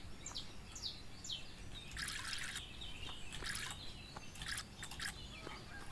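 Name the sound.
watering can pouring water, video game Everdream Valley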